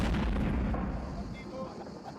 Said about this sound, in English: The monster is a howitzer cannon.